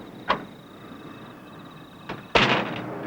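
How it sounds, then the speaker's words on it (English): A door is shut with a short knock, then a softer bump and a loud, sharp slam near the end, each standing out against a quiet room. "Might at least shut the door."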